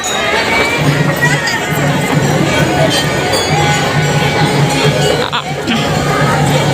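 Dense crowd noise at the Maa Banjari temple fair in Raipur, a steady loud babble of many voices and footsteps with no pauses, under close talk from a couple walking through the packed grounds.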